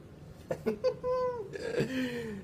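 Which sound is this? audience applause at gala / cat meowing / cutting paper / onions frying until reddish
cat meowing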